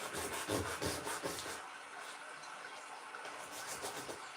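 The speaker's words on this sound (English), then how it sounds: "I might need a bigger piece of sandpaper." Hand sanding with a small piece of sandpaper, giving a steady scratchy rubbing close by, with louder back-and-forth strokes early that settle into a softer continuous scrape.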